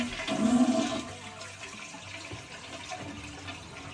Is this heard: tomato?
no